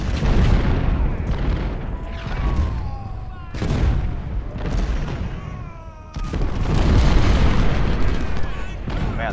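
Artillery fire in the Civil War strategy game Ultimate General, Battle of Fredericksburg: deep booms recur through a constant rumbling battle din, with a voice talking over the mix.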